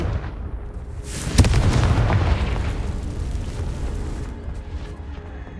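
A sudden loud explosive blast from the Confringo spell in Hogwarts Legacy bursts out after a quiet moment, then rumbles and slowly fades into a long, decaying roar.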